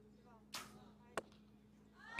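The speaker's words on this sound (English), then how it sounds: "Gets the arrow away for a 9" Compound bow arrows released during an archery competition final, heard as two short sharp snaps about half a second apart, each followed by a brief whoosh, then a louder burst at the end over a quiet hum.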